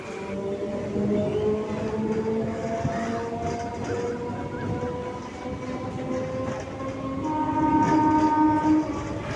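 A Kolkata suburban local train rumbling steadily along an elevated line with humming and screeching wheel tones, heard from on board, growing louder toward the end with no talking.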